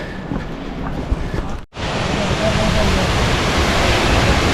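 Water from a waterfall pours down beside a narrow, slippery mountain path on the Amarnath Yatra, a steady loud broadband rush that fills the whole stretch with only a brief dropout.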